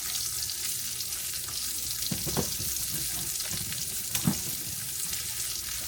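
Eggs sizzle in a breakfast pan with a steady close-up hiss, while a couple of scrapes and taps mark the stirring and scrambling.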